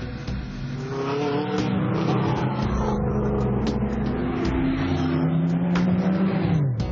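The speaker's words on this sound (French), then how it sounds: "La meute des 55 voitures est derrière le Pace Car et s'apprête à s'élancer." A pack of 55 race cars rolls behind the pace car at Dijon circuit, engines droning and revving together in a loud, sustained roar with rising and falling pitch.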